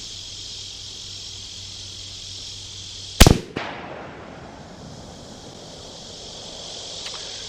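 A single sharp, loud crack from a Ruger American rifle in 6.5 Creedmoor fired at a range, its echo rolling away briefly, with insects chirping steadily in the background.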